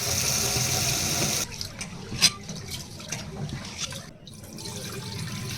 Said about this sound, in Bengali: এখন চালটা আমি পানি দিয়ে ভালো করে ধুয়ে নিব।